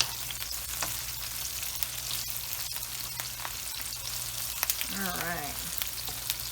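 Chicken keema browning with spices in a hot pan gives a steady, close sizzle and crackle with faint stirring scrapes, and a voice speaks briefly near the end.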